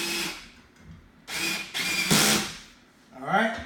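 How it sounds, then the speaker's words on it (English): A power drill drives a screw into a shelf bracket for a small display shelf in a few short, close bursts, each a second or less, with brief pauses between them and a final winding down. "and grab my drill"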